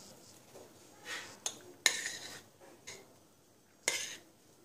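A utensil stirs kısır salad in a bowl, mixing bulgur, green onion and parsley, with several bright clinks and scrapes in an uneven rhythm over quiet background.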